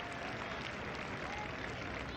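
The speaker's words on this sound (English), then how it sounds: "Applause for the West Indies 100." A cricket crowd at the 1973 England vs West Indies first Test applauds the West Indies 100 steadily, a dense wash of clapping heard from a distance at moderate volume, continuous from start to finish.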